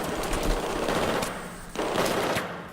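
Enemy soldiers fire on the player in the Battlefield 4 campaign during a Shanghai VIP rescue. Dense automatic gunfire rattles without pause, loud and close, with a short dip midway before the bursts pick up again.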